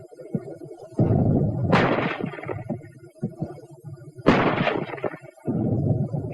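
German 75 mm gun fire in a 1942 WW2 training film: two heavy booming blasts a few seconds apart, each with a rolling rumble over a low background drone.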